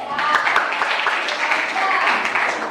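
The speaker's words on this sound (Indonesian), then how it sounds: "Oke, tepuk tangan buat Yose" Classroom applause breaks out as students clap steadily in a dense, continuous patter lasting a few seconds, with voices mixed in.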